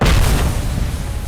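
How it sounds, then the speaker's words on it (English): A grenade explodes close by in RoboCop: Rogue City, a loud, heavy boom with a dense rumbling roar and crackle that fills the whole moment. "oh, that grenade is gonna explode on me"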